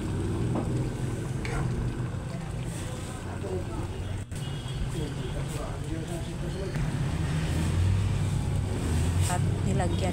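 Pork kare-kare simmers and sizzles in a pan with a steady bubbling, frying hiss throughout, while someone talks over the cooking.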